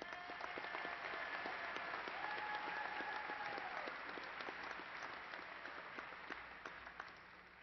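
An audience at Angelo State University's fall 2018 commencement applauds graduates, a dense, steady wash of clapping from a large crowd in a hall that slowly fades toward the end.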